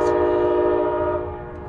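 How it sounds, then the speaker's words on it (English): A passing train sounds a loud, sustained, steady horn close by, holding for under two seconds before gradually fading, with a rumbling low background and no talk. "stupid train."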